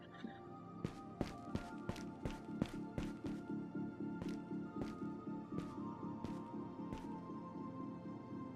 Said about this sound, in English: Ah, the printer.